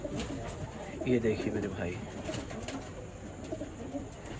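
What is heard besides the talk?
red tamda pigeons cooing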